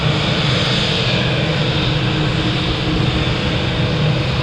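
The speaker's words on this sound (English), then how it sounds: "the Dreamliner is definitely one of my favourite aircraft" A Boeing 787 Dreamliner at Manchester Airport produces a loud, steady jet engine roar that holds unchanged throughout, with no voices.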